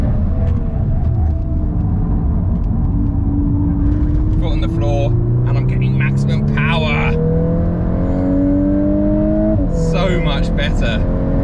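A VW Golf R MK8 accelerates at full throttle, its engine note rising steadily and loudly through the gears with brief shift breaks, while someone talks over it in bursts.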